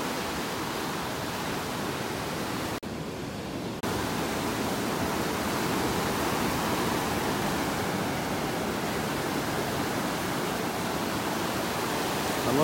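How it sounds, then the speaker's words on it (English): Continuous wash of surf breaking on a Gulf beach in North Naples, Florida, a steady dense roar with a brief dip near the start, close and loud with no voices. "I love listening to these waves."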